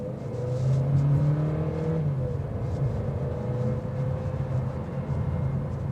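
A 2026 Audi A3 with a turbocharged inline four-cylinder engine accelerating from low revs, producing a steady, fairly loud engine drone that holds a smooth tone with slight pitch shifts throughout.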